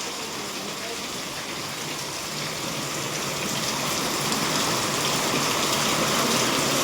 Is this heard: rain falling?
yes